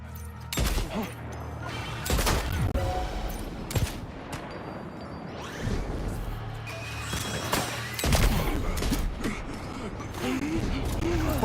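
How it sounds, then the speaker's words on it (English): Sniper rifle shots in a video game, several loud sharp cracks spaced a few seconds apart over busy game noise, with some talking mixed in. "Use my sniper rifle again."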